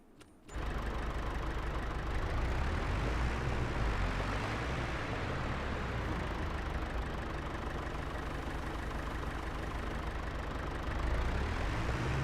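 A tractor engine in the Farming Simulator 25 farming game kicks in after a brief pause and then runs at a steady, loud idle for the rest of the stretch, with no talk.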